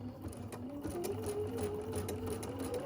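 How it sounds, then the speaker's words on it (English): Sewing machine stitching fabric for a project bag, its motor whirring in a rapid, even rhythm close by, quiet and uninterrupted. "So I'm going to get on my fabric and run my guide right along my first line of stitching here and go down another row."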